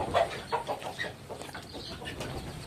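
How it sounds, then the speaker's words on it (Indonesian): A chicken clucks in a busy run of short, rapid calls, fairly close and moderately loud, with scattered bird sounds in the background and no talking. "ayam ini dia termasuk unggas yang berkaki"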